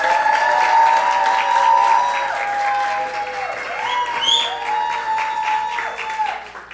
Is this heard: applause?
yes